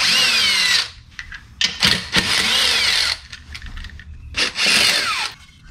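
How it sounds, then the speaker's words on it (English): A power impact drill whirs loudly in several bursts with short pauses between them, rising and falling in pitch as lug nuts spin off a Dodge Ram 1500 wheel. "I'm going to use a drill, an impact drill."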